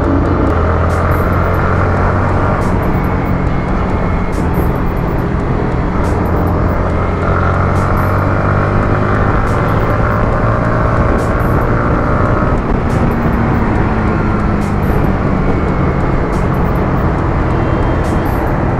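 A Yamaha Aerox scooter on a break-in ride along the road gives a continuous loud engine drone mixed with heavy wind rush, with no pauses throughout.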